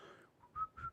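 A person whistles in two short, clear bursts after a faint breathy start, close and quiet, with no talking.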